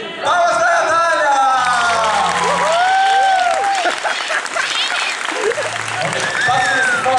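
Applause from a theatre audience clapping together at a Vinicius de Moraes poetry performance, with voices calling out and talking over it throughout.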